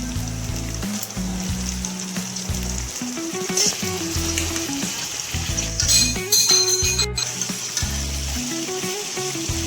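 Ginger and chicken pieces fry in a pan for Andhra-style curry, giving a steady, close, loud sizzle throughout while background music plays.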